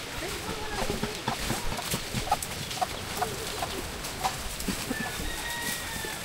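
Chickens cluck and squawk in scattered bursts in a rural yard, close and fairly lively, mixed with people talking and general outdoor bustle.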